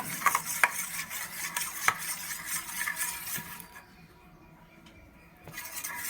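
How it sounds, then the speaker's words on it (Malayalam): Spoon stirring sugar into a mixture in a bowl, a run of light clinks and scraping swirls, then a short quiet pause before the stirring resumes, with no voices. "2 സ്പൂൺ പഞ്ചസാര നമ്മൾ ഇട്ട് ഇനി നന്നായിട്ടൊന്ന് ഇളക്കണം കേട്ടോ."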